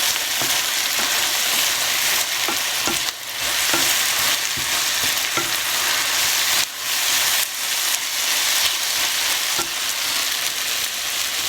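Balsamic vinegar hits a hot pan while yellow split pea fava cooks. It gives a loud, continuous bright sizzle with a few soft scraping stirs, and no one speaks.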